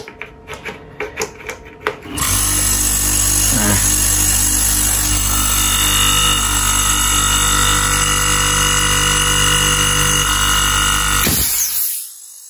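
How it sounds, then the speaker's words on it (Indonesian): A split air conditioner compressor switches on and runs with a loud, steady mechanical hum and rattle for about ten seconds, then shuts down, with a few clicks and knocks at the start. "kita tes dulu kompresor gue ini kondisinya kayak gimana. Ini gue nyalain"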